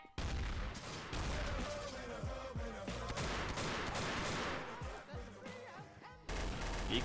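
Gunfire in Garry's Mod: a dense, loud fusillade of overlapping shots and bursts that fills the whole stretch, with shouting voices mixed in.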